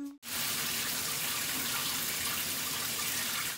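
Shower water running, a loud steady gushing hiss that starts abruptly after a brief pause and continues unbroken, close by, with no talking.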